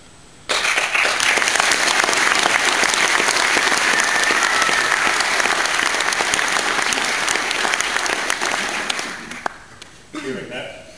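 A crowd applauds loudly and continuously at a senator's re-election campaign launch, dense clapping from a nearby audience sustained for around nine seconds before tapering off as a voice begins to speak.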